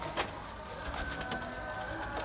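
Domestic white pigeons, including crested and plain whites, coo softly in a coop, a faint, steady murmur of low calls against a hushed background.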